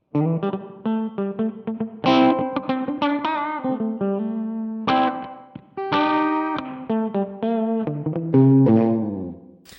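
Electric guitar played through the studio reverb setting of a Donner Verb Square pedal, a continuous melodic line of picked notes and chords with a roomy, sound-stage style reverb tail, loud and close with no talking.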